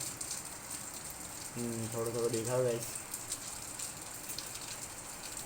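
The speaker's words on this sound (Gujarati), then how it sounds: "ઝરમર ચાલુ છે." Light night drizzle makes a faint, steady hiss. Someone talks briefly over it in the middle of the clip.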